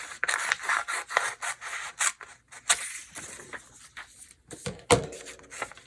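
Scissors cut paper trim for a book craft project, a close series of crisp snips and rustling strokes with short gaps, no talking.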